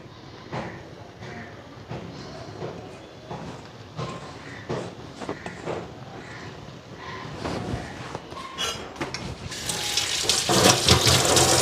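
A plate is washed under running tap water in a home kitchen, with steady splashing and clatter, and the flow swells into a loud rush near the end while crows caw faintly in the background.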